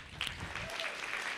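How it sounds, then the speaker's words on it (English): Brief burst of audience applause for mayoral candidates at the close of a forum, moderately loud scattered clapping from a room of people. "round of applause for the candidates"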